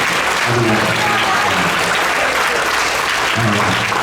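A crowd at a combined band concert claps continuously, a thick, even wash of applause at full volume with no pauses.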